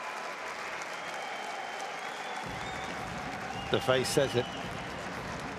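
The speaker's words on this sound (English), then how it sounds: "You saw other riders in the track standing up and applauding." A crowd applauds at the UCI Track Champions League London Grand Finale track cycling event after the women's elimination race, steady distant clapping under a commentator's voice.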